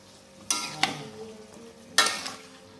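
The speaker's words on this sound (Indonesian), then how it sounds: "Sekarang kita masak tumis waluhnya, oseng waluh" Chunky pieces of chayote stir-fried in a pan, with a few sharp bursts of sizzling and scraping as they are tossed, each fading back to a quiet low simmer.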